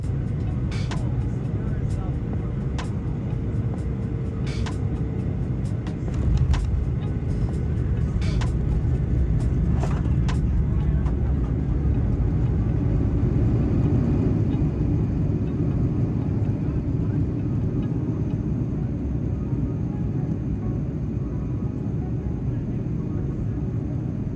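Deep, continuous low rumble inside the cabin of an American Airlines Boeing 737-800 landing in Charlotte, steady and heavy, with a few brief clicks and thumps early on.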